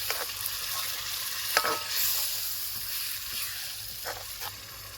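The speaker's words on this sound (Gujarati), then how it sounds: "તો સીધા નાખવાના રહેશે એમાં ભરેલા પાપડ." Stuffed papad goes into a sizzling tomato gravy and gets stirred, with soft scraping strokes and a few clinks over a constant gentle frying hiss, close by and moderately quiet.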